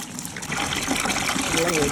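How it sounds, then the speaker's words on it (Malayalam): Water poured into a container while making laundry liquid detergent, a continuous close splashing trickle. Voices talk over it. "ഏകദേശം നമ്മൾ 1 ലിറ്ററിൽ കൂടുതൽ വെള്ളം ഇതിനകത്തിട്ട് ഒഴിച്ചിട്ടുണ്ട്"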